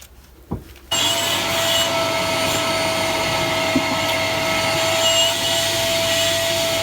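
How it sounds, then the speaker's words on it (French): A BX car door is scrubbed with a brush during a big clean: after a near-silent second, a steady, close rubbing and scraping starts and runs continuously, with no talking. "je vais aller chercher une brosse et on va essayer en frottant un petit peu"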